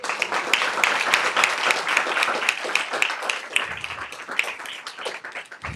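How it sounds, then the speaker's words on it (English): A school board meeting audience applauds throughout, a dense steady patter of many hands clapping at close range, sustained and even with no speech over it. "So you should give yourselves a round of applause."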